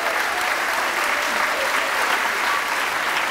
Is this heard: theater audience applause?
yes